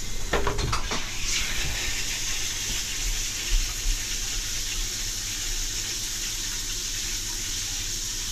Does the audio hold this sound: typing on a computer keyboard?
no